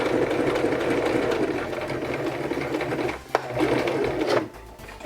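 A sewing machine stitches fabric for a cosplay headband, a loud, close, steady mechanical whir and rapid needle chatter that runs continuously, with a brief pause near the end before resuming.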